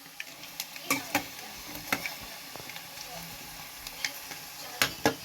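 Eggs frying in a pan for a Kashmiri dish, a soft steady sizzle broken by sharp clinks and scrapes of a utensil stirring against the pan, close and moderately quiet.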